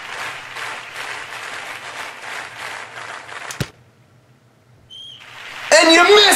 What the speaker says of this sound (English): Crowd's clapping.